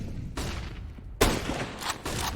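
A burst of gunfire lands a headshot during a professional Counter-Strike match on the Mirage map at a DreamHack event. Sharp, loud shots crack in quick succession with short pauses between them.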